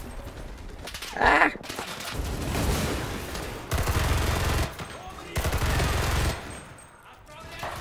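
Bursts of automatic gunfire and rapid shots from the World War II shooter game Enlisted, loud and close, coming in several clustered volleys over a rumbling battlefield, with someone shouting in French between them.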